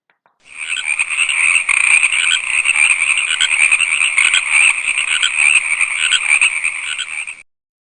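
A dense, continuous chorus of frogs croaking, loud and close, with a steady high trill layered over it for several seconds.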